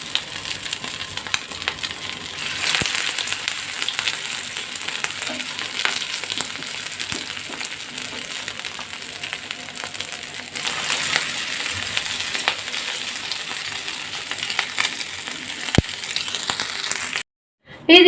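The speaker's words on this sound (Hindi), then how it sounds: "और अब हम इसमें कबाब फ्राई करेंगे" Shami kebabs fry in ghee in a hot pan with a continuous close sizzle, swelling and easing throughout, broken by occasional sharp clinks of a utensil against the pan.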